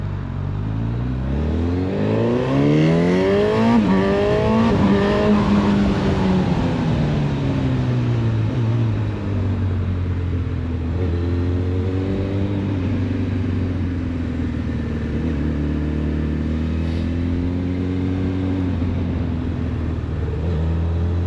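A 2025 Honda CB1000 Hornet SP motorcycle engine revs up and settles in rising and falling sweeps, loud and close, with steady road rumble underneath and no talking.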